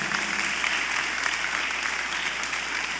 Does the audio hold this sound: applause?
yes